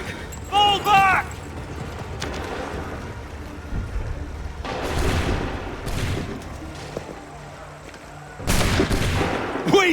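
Musket volleys in an Assassin's Creed 3 battle, several loud scattered blasts with a few seconds between them over a low rumbling background, with shouted commands in between.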